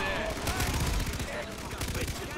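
Heavy machine guns blaze in the Far Cry 3 co-op game, a loud continuous stream of rapid automatic fire with dense, overlapping shot impacts throughout.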